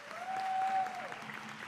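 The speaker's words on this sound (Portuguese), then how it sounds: "Por favor, gente, uma salva de palmas" Applause from attendees at a tribute ceremony for a children's rights defense center in São Paulo, a brief, moderate burst of clapping heard at some distance, with a faint tonal sound running through it.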